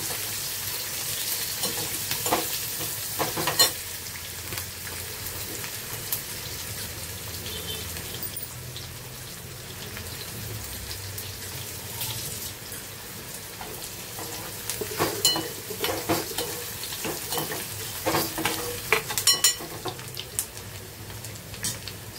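Onion and garlic roasting in a pan for a dry-fish curry, a steady close sizzle with intermittent scraping stirs and clinks, no talking.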